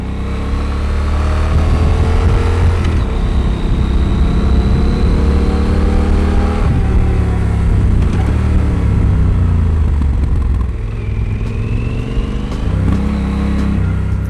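Yamaha Super Tenere motorcycle cruising a quiet road in the Santa Monica Mountains, its engine droning steadily and close with wind rush, the pitch rising and falling through gear changes and throttle shifts.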